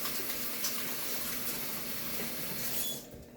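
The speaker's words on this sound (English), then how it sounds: "Let me wash my hands." Tap water runs in a steady, continuous hiss as hands are washed at a home kitchen sink during meal preparation, close and fairly quiet, ending abruptly as the flow is shut off near the end.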